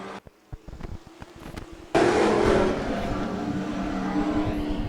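Late model race cars taking the green flag at Wiscasset Speedway: after a few sharp clicks and knocks, a sudden loud roar of engines bursts in and holds as a steady broad rumble.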